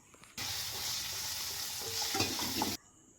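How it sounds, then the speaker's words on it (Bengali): Potatoes fry in a wok, a steady close sizzle broken by scraping stirs of a utensil against the pan, ending abruptly. "নাড়াচাড়া দিয়েছি দিয়ে নিয়ে আলুটা ভাজছি আমি"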